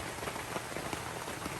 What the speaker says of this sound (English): And it just started pouring